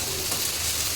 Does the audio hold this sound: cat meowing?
no